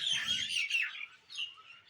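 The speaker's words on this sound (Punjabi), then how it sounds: "ਪੰਛੀ ਹੋਊਗਾ ਜਿਹੜਾ ਇੱਥੇ ਬੈਠਿਆ ਦੇਖੋ ਇਹ ਕਿੰਨੀ ਪਿਆਰੀ ਪਿਆਰੀ ਆਵਾਜ਼ਾਂ ਕੱਢ ਰਿਹਾ" Birds chirp close by in quick, bright bursts, several high tweets tumbling over one another with brief pauses, and no talking.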